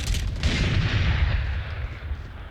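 Gunfire in the video game Valorant, a sharp loud burst followed by a long booming decay, heard alone without talk.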